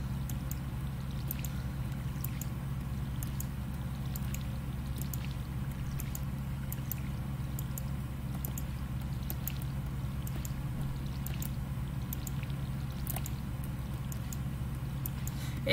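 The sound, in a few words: watering plants with a watering can in a video game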